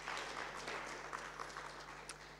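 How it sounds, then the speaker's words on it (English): Conference audience applauding a speaker at the end of her talk at an international conference session; faint, steady clapping spread across a hall, heard distant and quiet without any talk over it. "May we please give her a round of applause?"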